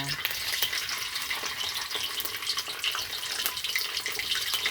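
Steady crackling sizzle of egg-filled climbing perch frying in hot oil in a pan, a dense hiss that holds evenly throughout with no talking.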